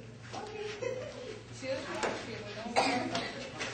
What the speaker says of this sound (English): see how they're all coughing?